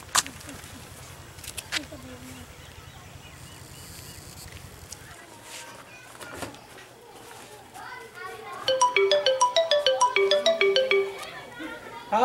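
A mobile phone rings with an incoming call in a village, its bright repeating electronic ringtone chiming for a couple of seconds near the end, after a stretch of background children's chatter and scattered noise.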